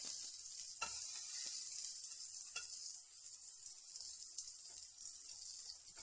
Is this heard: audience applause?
no